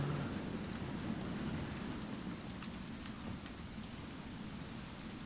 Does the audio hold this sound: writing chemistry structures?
no